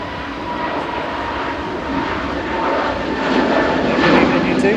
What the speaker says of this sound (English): Heading back to Copenhagen, another Airbus A320.